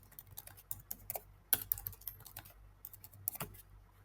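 Rapid, uneven typing on a computer keyboard while a password is entered, with close, crisp key clicks in irregular bursts and a few sharper, harder strikes.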